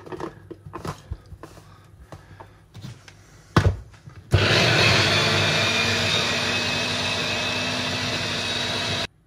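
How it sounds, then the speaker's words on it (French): An electric blender starts up to mix chicken sausage meat with broth for homemade cervelas, preceded by a few clunks and knocks, then a loud steady whirring motor that runs close until it stops at the end. "Et on va commencer à mixer."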